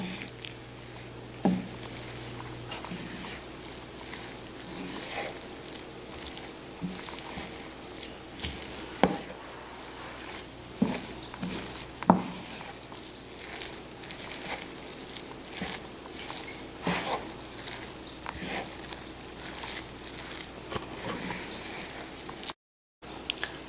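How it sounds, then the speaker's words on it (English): Chicken, orzo and vegetables are stirred together in a hot pan, a soft sizzling under repeated squishy scrapes and occasional knocks of a utensil, close up with no talking. "You just mix these all together."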